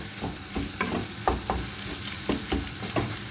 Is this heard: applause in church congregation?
no